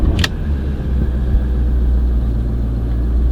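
A 2016 Porsche Cayenne S 4.2 litre V8 diesel starts with a brief sharp click, then settles into a loud, steady, deep rumbling idle close by.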